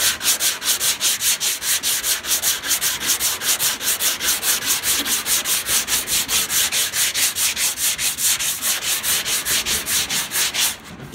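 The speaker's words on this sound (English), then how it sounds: "You don't want to stay in one spot sanding, so you gotta move" Hand sanding of an auto body panel: rapid, even back-and-forth rasping strokes, loud and close, continuing for about eleven seconds with no talk.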